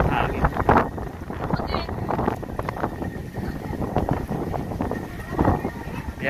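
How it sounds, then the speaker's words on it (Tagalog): Strong crosswind gusts in Tagaytay rumble against the microphone, fluctuating in bursts with a faint voice underneath. "Medyo malakas yung hangin."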